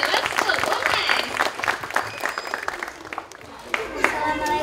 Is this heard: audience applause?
yes